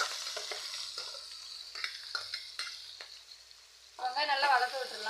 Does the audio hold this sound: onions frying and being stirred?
yes